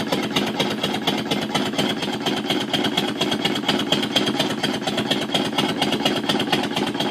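Model marine steam engine running with a steady, rapid chuffing beat and a slightly uneven, loping rhythm, close and fairly loud, with no talk over it.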